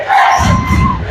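Loud, roaring crowd at a South High boys' basketball game, yells and cheers swelling together, close and dense throughout the short burst.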